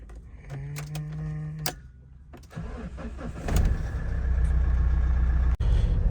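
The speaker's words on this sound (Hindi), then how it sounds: "आप जाओगे गाड़ी में, स्टार्ट कर ले एक बारी" A car engine cranks and catches on a foggy farm field, settling into a steady running idle after a few seconds of quieter sounds, close and fairly loud.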